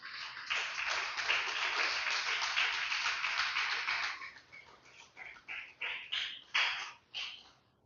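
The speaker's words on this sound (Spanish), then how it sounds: "Denle un fuerte aplauso al Señor" A congregation applauds with dense, steady clapping for about four seconds, then the applause breaks into scattered, uneven claps that fade out.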